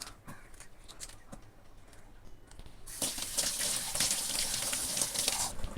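Running water gushes from a tap as a crab is cleaned and scrubbed with a brush, with a soft rinse at first that swells into a loud, steady spray for the last few seconds.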